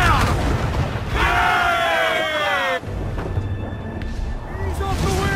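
Ship cannons fire during a naval battle in Assassin's Creed IV Black Flag, with a few booming blasts amid rushing sea and wind noise and shouted crew voices.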